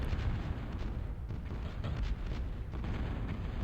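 Artillery in the strategy game Total Annihilation, a dense rumble of overlapping booms and bursts, fairly quiet and continuous, with no voices.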